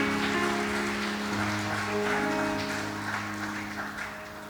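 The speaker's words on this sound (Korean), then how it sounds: "찬양으로 영광을 돌린 우리 시온 찬양대에게도 박수 한번 해주시기 바랍니다" A church congregation at a Sunday worship service applauds the Zion choir, a dense wash of clapping that runs steadily throughout over low sustained tones.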